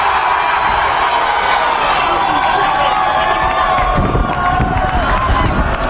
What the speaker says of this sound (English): If you are against violence, cheer now!